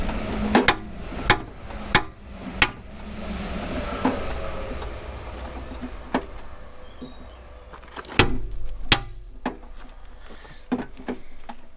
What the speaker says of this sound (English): the inner one you just have to hammer out with a big hammer